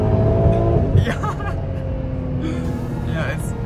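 Ferrari 812 Competizione V12 engine, a loud sustained engine roar with shifting pitch as it revs, heard from inside or near the car while people talk and exclaim over it.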